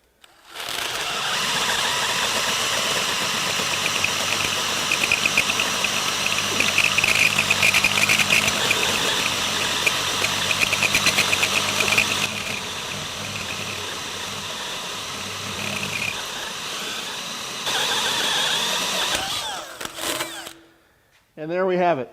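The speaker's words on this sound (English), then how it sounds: "So through 1/4 inch steel, and we cut that 1 inch hole there, no problem." A Holemaker Versadrive drill cutting a 1-inch hole through 1/4-inch steel: a steady, loud, high motor whine with grinding that runs almost without pause for about twenty seconds, then stops abruptly.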